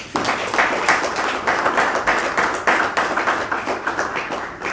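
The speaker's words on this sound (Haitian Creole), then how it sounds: "je vous demande de les applaudir" An audience at a ceremonial event applauding, a dense, loud wash of many hands clapping together that holds steady with rhythmic swells for several seconds, with no talking over it.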